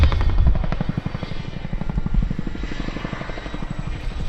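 An RAF Chinook display helicopter pulling through a nose-over manoeuvre gives a loud, steady rotor thump, with rapid regular blade slaps over a deep engine roar that holds throughout.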